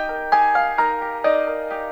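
Melodic riff, a few plucked or struck notes landing over sustained harmonic chords, with a quick fluttering figure near the end, heard on its own.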